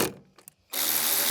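A ratchet tightens the 10mm bolts on the plastic liner of a Ford Bronco: a few quick close clicks, then a brief burst of fast, dense ratcheting.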